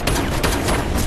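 A dense burst of gunfire, several loud cracks close together with a noisy, reverberant tail, like a short exchange of shots.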